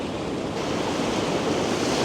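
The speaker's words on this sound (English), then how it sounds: "just waiting for the water to rush in, fill up these little pockets" Sea waves rushing in between coastal rocks, a constant loud roaring wash of surf with wind buffeting the microphone and no talking.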